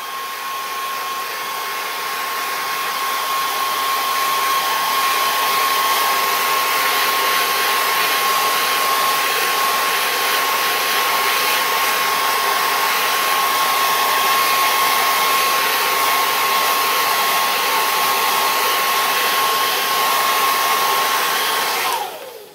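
A hair dryer blows steadily on a kiln shelf, a loud, even whirring hum with a constant high whine that runs unbroken for over twenty seconds before clicking off at the end.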